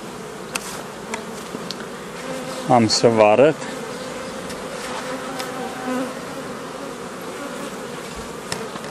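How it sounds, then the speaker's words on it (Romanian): Honeybees shaken off their hive frames fill the air with a dense, steady buzz close by, and one bee swells briefly louder nearby as someone speaks a few words. "am scuturat în mare parte toată albina"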